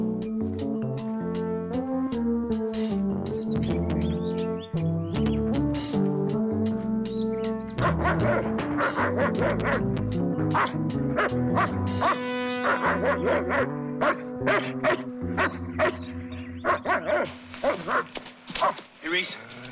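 Guard dogs bark in repeated sharp bursts beneath a dense orchestral film score, with voices speaking in between.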